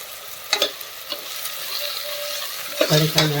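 Vegetable curry fries in a pan while a spoon stirs it, a steady sizzle broken by a few sharp scraping and clinking strokes near the start and end, close up with no talking.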